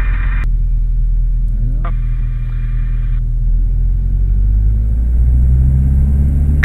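A small airplane engine runs up to max power for a short-field takeoff, a loud, close, continuous low rumble that builds slightly toward the end, with brief bursts of radio or cockpit voices.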